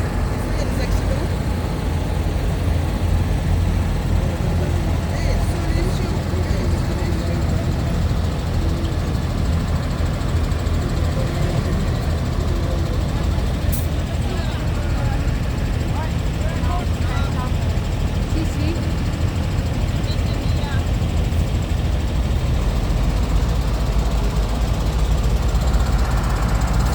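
A French agricultural tractor's engine runs steadily nearby, a loud, dense, unbroken rumble that holds level throughout with no speech on top.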